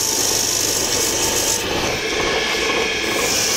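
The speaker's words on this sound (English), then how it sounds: "So that's the outside all sanded up." Sandpaper rubs the outside of a maple bowl spinning on a lathe, a steady close hissing rasp that continues without break, shifting slightly in tone midway.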